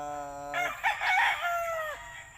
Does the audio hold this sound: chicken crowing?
yes